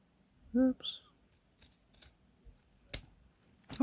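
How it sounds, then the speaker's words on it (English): Scissors snipping paper while making junk journal window envelope tags, a few short crisp cuts with quiet pauses between them and a brief voice near the start. "Do it with scissors."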